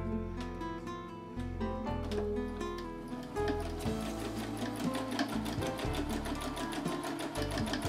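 A sewing machine stitching free-motion embroidery, its needle chattering in a fast, steady mechanical rhythm that picks up speed and runs continuously throughout, close and moderately loud with no talking.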